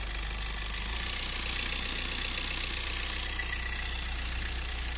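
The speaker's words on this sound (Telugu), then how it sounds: "ఇంజన్ సౌండ్ చూసుకుంటే ఇట్లుందండి" A 2019 Maruti Ertiga VDi 1.5 diesel engine idles steadily with a low, even rumble and a faint rhythmic knock, with its timing needing adjustment; close by and unchanging, with no talking.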